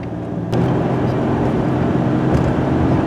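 A Ford Ranger pickup on a test drive, its engine and road noise a dense, steady rumble that swells after a brief bump near the start and holds close and loud.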